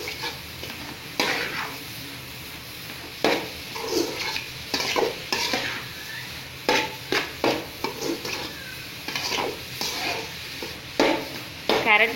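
Carrot and cabbage stir-fried in a pan for cauliflower chilly rice, with steady sizzling broken by repeated scraping and clattering strokes of a spatula against the pan.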